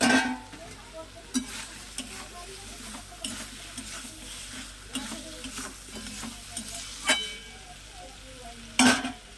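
Tengra fish and potatoes cooking in a pan, with a low soft sizzle of frying under repeated scraping strokes of a spatula stirring the mixture, fairly quiet and close, with one sharper clack near the end.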